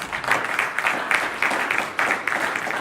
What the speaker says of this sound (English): why don't y'all give Doc B a round of applause?